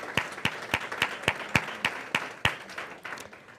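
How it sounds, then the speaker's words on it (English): A handful of slow, separate claps ring out at a steady rhythm in a conference room, sparse and fairly close, like a small group or a single person applauding. "I want to give a round of applause."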